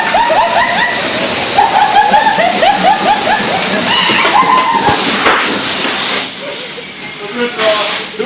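At a car wash, spraying water and soap hiss and rush loudly and steadily over a car, with voices chattering over the spray and a few knocks and shifts near the end.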